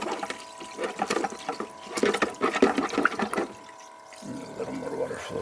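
Water flowing and splashing through gold panning clean-up equipment, a steady rushing trickle with pump-like hum, heard close alongside talking.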